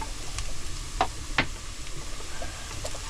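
Garlic added to a hot cooking pan sizzles in a steady low fry, broken by two brief scraping stirs close by.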